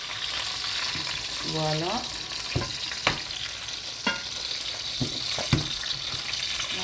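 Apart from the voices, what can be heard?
food frying and cooking in a pan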